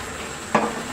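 Puti fish and eggplant chorchori tossed by hand in a hot pan, a single short burst of sizzling and shifting near the middle over a faint steady frying hiss.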